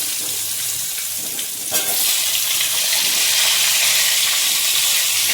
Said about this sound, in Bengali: ডিমের আলুগুলো ভেজে নিই।